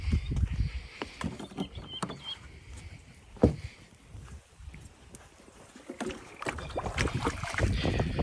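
A GPS autopilot bait boat loaded with rig and feed is set down onto the water, giving soft splashes and sloshing close by amid steady wind noise on the microphone, with no talking.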